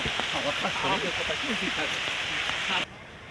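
Steady rain falls throughout, a dense even patter under people talking in a village comedy scene, then cuts off abruptly near the end.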